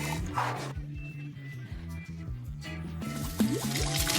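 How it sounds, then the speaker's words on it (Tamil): Cooking oil pours into a pan with a quiet, trickling fill sound, heard faintly under voices and melodic background sound. "பானில் எண்ணெய் ஊற்றவும் மற்றும் சீக்கிரமாக சிப்ஸ் வறுக்கவும்."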